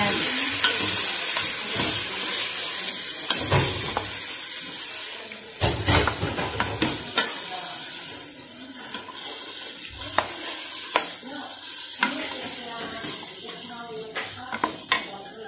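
Mutton goes into a hot pan for curry and fries with a steady loud sizzle and hiss, broken by clattering stirring and scraping of a utensil against the pan.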